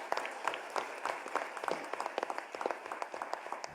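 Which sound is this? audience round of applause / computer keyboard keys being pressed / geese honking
audience round of applause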